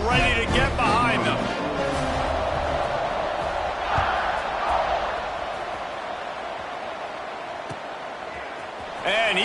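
Stadium crowd at a college football game, LSU at Alabama, roaring and cheering steadily through the kickoff, a loud sustained wall of voices with swells and whoops, commentary voices over it.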